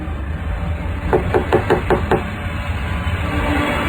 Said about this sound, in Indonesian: di balik suara ketukan itu